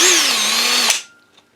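A Bolens BL110 25cc two-stroke string trimmer engine runs with a loud, steady buzzing whine for about a second, then cuts out abruptly and falls quiet.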